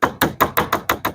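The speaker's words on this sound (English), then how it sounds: "I'm hammering on a bit of an angle to try and change the shape of that seam." Seven quick, evenly spaced hammer taps ring out on the metal seam of a Sportspal canoe while a dent is worked out, each strike sharp and close with a short ringing decay.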